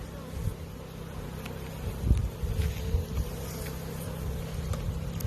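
Honey bees swarm around an open hive in a Michigan spring apiary, a steady close buzzing hum with a little wind noise and no talking.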